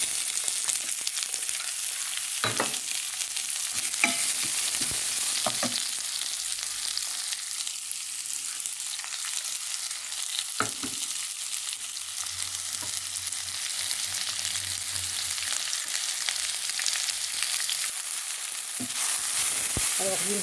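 Minced onion, garlic and ginger frying in sunflower oil for a vegetable biryani, giving a continuous close sizzle and hiss with a few scattered clicks and stirring taps, and no talk.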